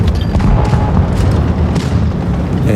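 Heavy tank cannon fire in the mobile game World of Tanks Blitz, from a Foch 155 tank destroyer: loud booming blasts with rumbling reverberation across the short span, alone without talk.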